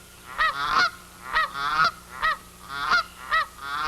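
Dusky geese in flight pass close overhead, giving a series of loud, nasal honks in bursts of two or three calls, repeated roughly every half second with no talk.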